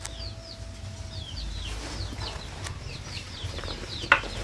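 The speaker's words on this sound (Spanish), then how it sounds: "Unos pollitos tan lindos" Young chicks cheep in a quick series of high, thin peeps, fairly close and repeated throughout, over a low farmyard rumble with a sharp knock near the end.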